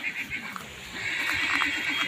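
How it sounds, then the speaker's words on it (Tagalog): A horse whinnies faintly in the distance, with a few soft hoof clops and people talking nearby. "May kabayo pa di sila."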